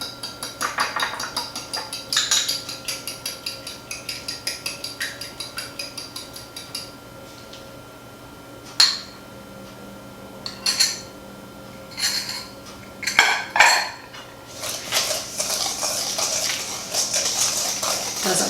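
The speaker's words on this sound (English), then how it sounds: "Then I'm going to beat my eggs." Eggs beaten in a bowl for a pecan pie, a rapid run of light clinks and taps from a utensil against the dish, coming in bursts with short pauses, close and fairly quiet.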